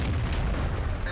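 Tank cannon shot from a Hellcat tank destroyer in World of Tanks, a short loud low-frequency boom with a sustained rumbling tail and no talking.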